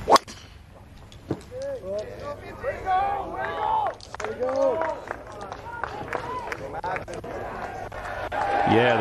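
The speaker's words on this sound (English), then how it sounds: "the crowd behind the tee loved that" At the 2023 Ryder Cup, a golf crowd packed behind the tee erupts in loud shouts and whoops right after a shot, with a busy, overlapping cheer that swells and carries on.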